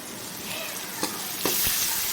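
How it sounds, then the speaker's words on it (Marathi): Thin gram flour pithla roasts in a pan over a high flame, a continuous sizzle broken by a few sharp scraping clinks as it is stirred, all close and fairly loud. "इथे मी गॅस पण अगदी मोठा केलेला आहे छान भाजून घेते"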